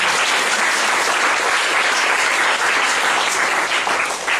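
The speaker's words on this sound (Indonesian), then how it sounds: "Berikan tepuk tangan dari Tuhan." Audience at a seminar in Sentani, Jayapura, Papua, breaking into dense, continuous applause, loud and even throughout with no talking.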